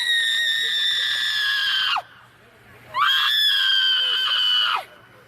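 Two long, loud high-pitched screeches, each holding steady for a couple of seconds before dropping off, with a short pause between them.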